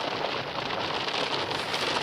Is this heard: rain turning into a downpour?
yes